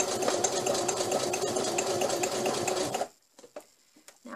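A sewing machine stitches a zigzag border in a fast, steady mechanical chatter for about three seconds, then stops, leaving a few faint clicks and handling sounds.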